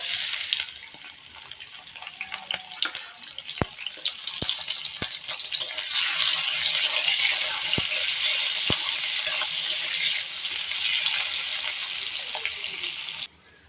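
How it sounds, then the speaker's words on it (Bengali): Chopped onion sizzles in hot oil in a heated kadai for a Bengali fish dish, a bright continuous hiss with a few sharp crackles and pops, steady and close, with no talk. "তেল গরম হয়ে গেলে দিয়ে দেব কুচনো পেঁয়াজ"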